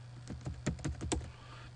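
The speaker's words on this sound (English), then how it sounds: "it's quite easy to just to type a few comments" A handful of soft keystrokes click on a computer keyboard, quick and irregular, close and quiet.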